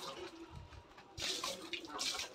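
Tap water pours into empty tubs at a village home, a soft splashing trickle that grows stronger in bursts, with faint background noise and no clear talk.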